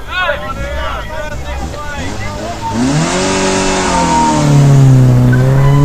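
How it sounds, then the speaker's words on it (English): Peugeot 205 GTI rally car on a Lombard Rally stage at Grimsthorpe Castle, engine rising in pitch as it approaches and passes close by, loud and sustained with wind buffeting, while a commentator talks over it. "Car number 23 is Chris Common in his Peugeot 205 GTI, which is a popular regular attendee at Lombard events."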